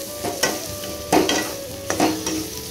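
A spoon stirs a spiced turmeric curry frying in a pan, with steady close sizzling and several louder scraping strokes, no talk.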